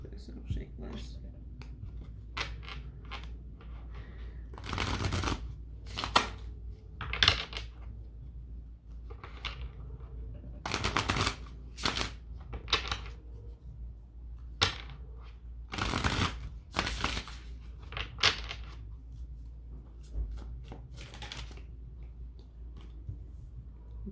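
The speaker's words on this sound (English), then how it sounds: "You have to shuffle like this, it'll shake less." Tarot cards are shuffled by hand in irregular bursts of riffling and flapping, close and crisp, broken by quiet gaps, while a person talks softly in the background.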